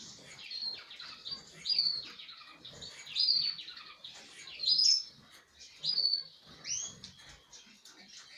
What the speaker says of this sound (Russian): Канарейки потихоньку спускаются на корм.